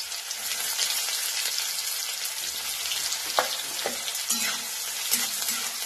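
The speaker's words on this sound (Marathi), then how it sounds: "तेल चांगलं गरम झालेलं आहे। आता आपण याच्यामध्ये कांदा घालूया।" Chopped onion dropped into hot oil for masala bhindi (okra), a steady close hiss of sizzling with a few soft stirring clicks and pops, no voices.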